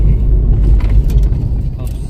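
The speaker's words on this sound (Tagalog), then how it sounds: "yung pangalawang kulong-kulong po mga kabayan, or tricycle" A kulong-kulong tricycle engine rumbles low and steady on a mountain road at night, close by, with people talking over it.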